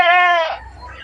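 A young goat kid gives a single loud, close bleat that lasts about half a second and then tapers off into quiet.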